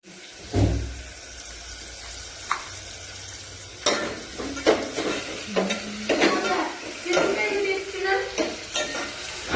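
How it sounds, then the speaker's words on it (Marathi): Spices hit hot oil with a sharp sizzle, followed by bursts of crackling and the clatter of stirring in a pan, loud and close. "काम करायला फोडणी"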